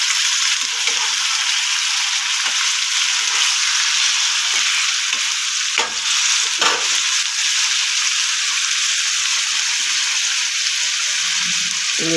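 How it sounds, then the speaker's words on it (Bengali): Potatoes fry in hot oil with panch phoron in a pan, a steady loud sizzle running throughout, broken by a few sharp scrapes of stirring, with no talk. "এবার নেড়ে চেড়ে ভাজা করে নেব"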